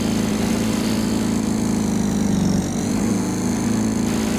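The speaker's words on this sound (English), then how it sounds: "Do you ever wish you could just do this with your own lawnmower?" A lawnmower engine running in a video game hums steadily and loudly throughout, with a constant low drone and no talking.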